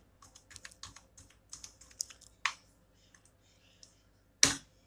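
Fingers typing on a computer keyboard in billing software: a quick run of light, close key clicks, then a louder keystroke and, after a pause, a single hard tap like an Enter key.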